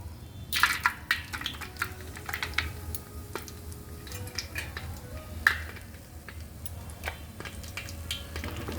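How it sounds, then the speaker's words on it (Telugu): Cashews sizzle in hot sesame oil with crushed coriander seeds, a steady low frying hiss broken by a few sharp clinks and stirring taps of a utensil against the pan. "కాజు కొంచెం ఫ్రై అవ్వాలి"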